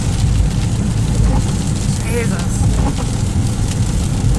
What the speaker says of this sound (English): And this is Las Vegas rain.